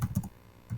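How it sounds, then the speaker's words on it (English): Brief keystrokes on a computer keyboard, a quick cluster of three or four clicks, a short pause, then two more, close and alone with no voices. "Let's say I'm typing"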